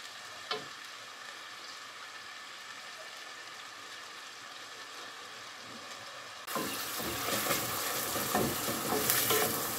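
Onion frying in a pan as it gets stirred: a faint, soft sizzle that suddenly turns louder and brighter partway through, with light scraping stirs and no talk.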